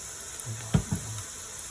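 Cumin, green chillies and whole spices dropped into hot oil for chicken pulao, a faint steady sizzle with two brief louder pops or clinks near the middle, no talking.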